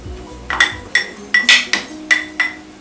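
A spoon stirs wheat and white corn flour in a bowl, clinking against the rim in a steady series of about seven bright, ringing taps, close and fairly loud, with no voices.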